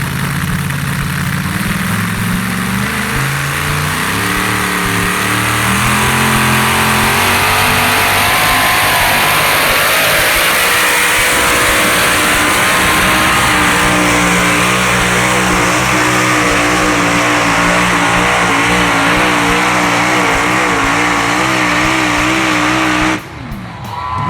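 A pulling truck at a truck pull event in Emmett, Idaho, roars loudly at close range, its engine revving and climbing in pitch through a sustained, straining pull before dropping off abruptly at the end.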